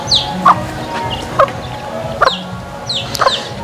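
Farm chickens cluck in a few spaced, fairly close calls as they walk toward the listener, with quiet gaps between each bird's short vocal bursts.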